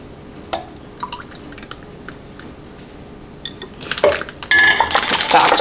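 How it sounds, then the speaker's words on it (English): Homemade turkey stock is ladled into a glass canning jar. A few light clinks and drips come first, then a steady close splashing pour fills the jar with no talking. "And then we're gonna ladle in our stock."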